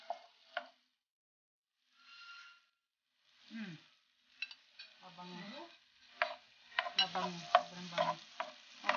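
Garlic sizzling in a pan for tuna carbonara while a utensil stirs and scrapes it, with intermittent clinks and scrapes and soft bursts of frying, close up and with no voices.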